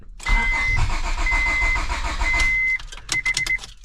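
A project car's starter cranks hard on starting fluid, loud and close, churning steadily with a high whine, then cutting off into a few short, choppy bursts near the end.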